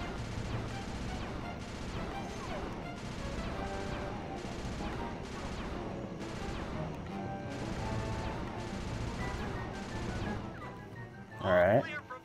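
Bursts of gunfire from a weapon in Sly 2: Band of Thieves ring out in short repeated volleys over steady game noise, with a loud final burst near the end and a voice talking throughout.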